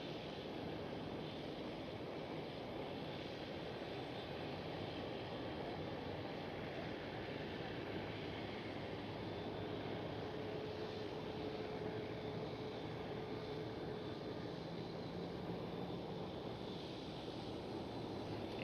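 A Transavia A321neo airliner departing from runway 09 at Schiphol Amsterdam, a steady distant jet roar with low rumble that holds evenly throughout, with no voices.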